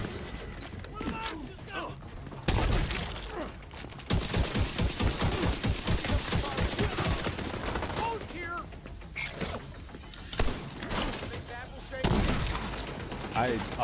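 Rifle gunfire in the shooter game The Division 2 cracks out in rapid bursts and a long, rhythmic stream of shots, loud and close, while someone talks over it.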